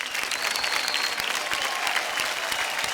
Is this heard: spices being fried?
no